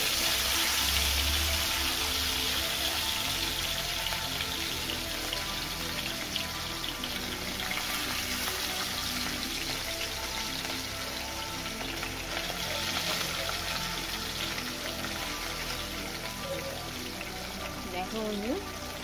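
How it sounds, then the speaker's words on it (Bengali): Small puti fish frying in well-heated white oil, a steady broadband hiss and crackle running without a break throughout, with a tonal background layer underneath. "তেলটা কিন্তু খুব ভালো করে গরম হয়ে গিয়েছিল। তাই এইভাবে দেখো মাছগুলো দিয়ে দিয়েছি।"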